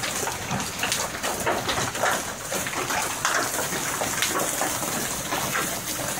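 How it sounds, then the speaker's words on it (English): Heavy hail pelts down during a thunderstorm, a dense, continuous clatter and hiss of countless impacts, loud and unbroken throughout. "Lots of hail, thunderstorm."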